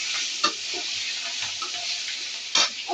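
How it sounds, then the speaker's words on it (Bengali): Two green chilies frying in hot oil, a bright continuous sizzle at close range with a couple of louder spits and clatters as the pan is stirred. "দুটা কাঁচামরিচ দিয়ে দিলাম, একটু ভাজা হোক এর সাথে"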